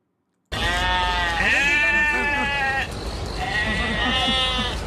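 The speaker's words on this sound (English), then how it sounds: "Okay, goats, what are you gonna do?" Goats bleat loudly and close by in long, wavering cries, one after another, with a short pause between calls and farmyard noise in the background.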